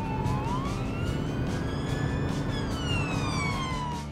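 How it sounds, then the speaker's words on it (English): Police car siren wailing up and down in long rising and falling sweeps over a constant low engine rumble, loud and close throughout. "The sirens and flashing lights are used to help cars all around see and hear the police coming."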